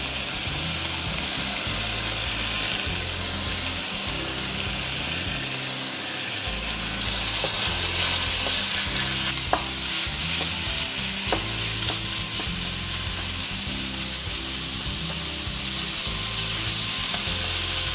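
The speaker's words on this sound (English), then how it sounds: "Keep browning the mince, making sure it doesn't burn." Beef mince browning in a hot pan with olive oil over a stove, a loud continuous sizzle and crackle with scraping stirring sounds throughout, close and steady.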